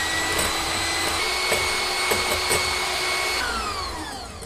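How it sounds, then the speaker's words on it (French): Electric hand mixer whipping egg whites to stiff peaks for a fromage blanc cake, a steady close motor whine with bright whirring overtones that holds throughout, speed shifting slightly near the end. "je vais les monter en neige ferme"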